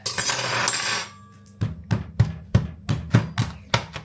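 A metal spoon and fork clink together about eight times in a steady rhythm, each a sharp, bright tap, after a second of busy noise at the start.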